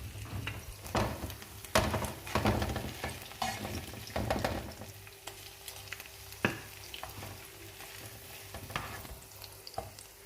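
Vegetables and tomato sizzle in a frying pan, with scraping stir strokes and clatters at a steady pace over a continuous frying hiss that thins out toward the end.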